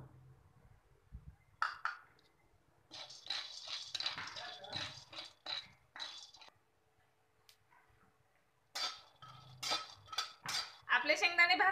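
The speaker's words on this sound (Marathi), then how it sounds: "अगोदर कढईमध्ये आपल्याला शेंगदाणे भाजून घ्यायचे आहेत" Peanuts are dry-roasted in a metal kadhai for poha, heard as scattered rattling and clinking of nuts and a spatula against the pan. The bursts are separated by quiet gaps and grow busier near the end.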